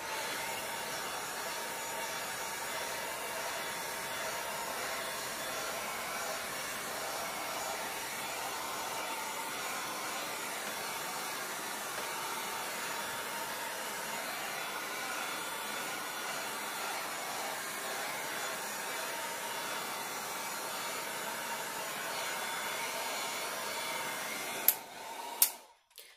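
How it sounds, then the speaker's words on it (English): A heat gun blows hot air to dry paint on a peacock painting, a loud, steady whirring roar held for about twenty-five seconds, then cut off with a couple of clicks at the end. "I actually prefer to use the heat gun because it goes pretty quick"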